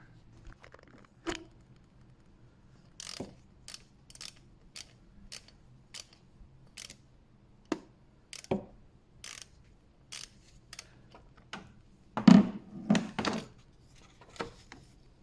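A ratchet turns an E12 bolt out of the belt tensioner on a Mercedes C-Class W204, with sharp, separate clicks coming close together in uneven bursts, faint and close-up, and a louder clatter near the end.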